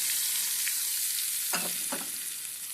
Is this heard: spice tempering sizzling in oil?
yes